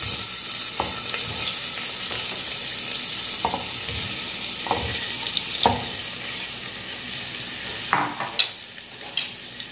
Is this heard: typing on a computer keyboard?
no